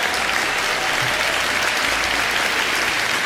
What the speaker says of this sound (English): Everybody give Frank a round of applause.